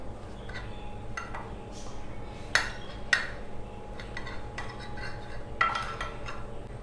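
A spoon stirs marinated chicken pieces with cornflour in a bowl, making soft, squelchy mixing sounds punctuated by a few sharper clinks of metal against the bowl rim. The sound is moderately close, with no talking.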